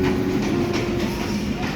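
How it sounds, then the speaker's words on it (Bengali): A local train at a railway station gives off a steady, loud rumble and rolling clatter of rail cars that runs continuously throughout, with no talk. "ট্রেন চলে এসেছে"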